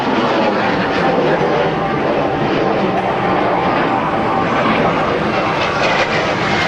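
MS760 jet aircraft with Turbomeca Marboré engines flying at a naval air station airshow, a steady broad roaring whine that holds constant, loud and sustained with faint voices beneath.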